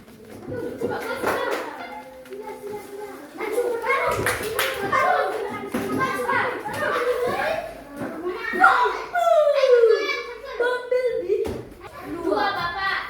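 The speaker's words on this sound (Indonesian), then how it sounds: "tepuk tangan untuk kelompok 2" Children in a classroom clap for the winning group, scattered and uneven bursts of hand claps mixed with kids' chatter and an adult voice speaking throughout.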